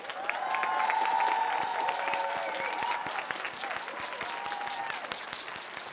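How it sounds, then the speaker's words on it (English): An audience at a youth marimba ensemble performance applauds and cheers for a dancer, steady crowd clapping throughout with scattered whoops and shouts rising over it, fairly loud and sustained. "please give another big, huge applause for our dancer"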